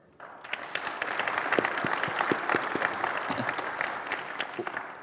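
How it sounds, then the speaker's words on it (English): Conference audience at a sports analytics session clapping in response to a show-of-hands poll, applause swelling quickly from quiet into a sustained, moderately loud patter of many hands, with faint voices mixed in. "Can you please clap if you love score targets?"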